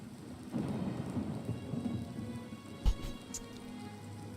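Steady rain pours throughout in the game Oblivion Remastered, with a sharp, close thunderclap cracking near the three-second mark before the downpour rolls on.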